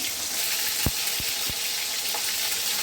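Onion, cinnamon and cloves fry in a pan with a continuous close sizzle, broken by a few sharp utensil knocks early on and no talking.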